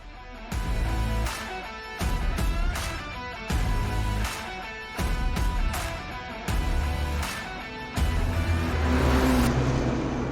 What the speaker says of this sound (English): The exhaust note is piped in through the speakers in here